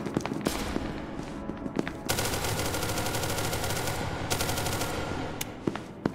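Automatic and single gunshots crack in rapid bursts during a firefight in SCP: Secret Lab, loud and sustained with dense volleys and sharp isolated shots between them.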